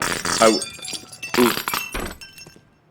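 Glass shatters on a Counter-Strike map, sounding as two loud crashes with tinkling shards that fade into quiet.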